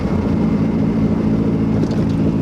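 A Toyota MR2 with a swapped 3SGTE turbo engine and no exhaust drives along, giving a loud, steady, rough engine drone close to the microphone.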